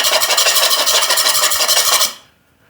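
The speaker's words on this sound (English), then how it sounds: "one of the things that you can do is the butter knife test on plank" A butter knife scraped rapidly back and forth across a vinyl plank floor, producing a loud, close, rhythmic rasping that runs steadily for about two seconds and then stops abruptly.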